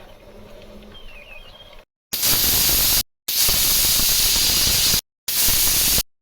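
A pressure cooker whistle hisses loudly in three long, steady bursts of steam separated by brief silences, after a quieter stretch of kitchen background, while cooking rice.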